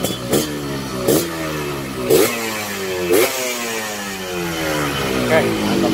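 A Yamaha RX-King motorcycle with a standard racing exhaust revs repeatedly in sharp bursts, rising and falling about once a second with a deep, throaty exhaust roar, close by.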